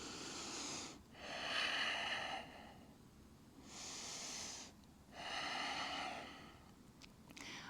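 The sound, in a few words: breathing during a stretching exercise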